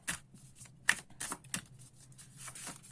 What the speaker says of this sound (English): So I'll just shuffle these. These are astrological cards.